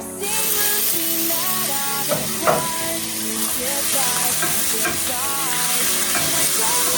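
Onion, garlic and ginger frying and being stirred in a pan as tomato goes in, giving a steady close sizzle throughout with scraping stir strokes and a brief louder clatter near the middle.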